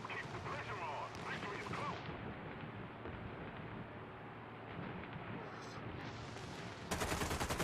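Machine-gun fire from a P-36C Hawk fighter in the War Thunder flight game, a dense sustained rattle over engine and combat noise, with a louder crackling burst near the end.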